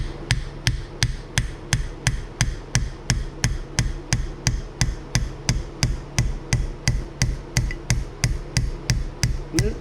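Hammer blows strike a motorcycle jack under repair, about three sharp metallic knocks per second in a steady, loud, close rhythm, with no talking.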